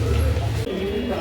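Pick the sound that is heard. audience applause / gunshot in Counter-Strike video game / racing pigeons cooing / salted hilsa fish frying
racing pigeons cooing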